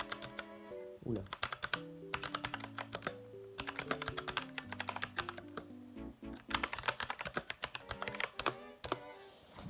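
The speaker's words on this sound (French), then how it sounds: "On va tester le bruit. Alors attendez, je vais écrire, je ne sais pas, un truc." Typing on an AG109R mechanical keyboard: dense runs of crisp key clicks over about ten seconds, close and fairly loud, with music playing underneath and a brief spoken exclamation.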